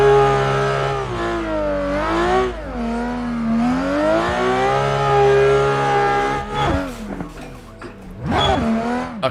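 A VDC F22 race car in Assetto Corsa revs hard and loud, its engine pitch climbing and falling through gear changes, with brief tire squeals and sharp revving bursts near the end.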